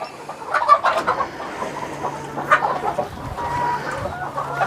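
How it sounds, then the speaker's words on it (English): Chickens of several breeds cluck steadily on a free-range farm, with sharper squawks and a few louder calls standing out against a constant background of hens, close and fairly loud, no talking. "we have 8 different breeds of chickens"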